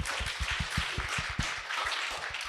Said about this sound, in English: Yes, an applause for Rebecca, please.